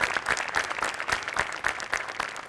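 A theatre audience at a Marathi comedy show taping gives a standing ovation, loud dense clapping that continues steadily without a break.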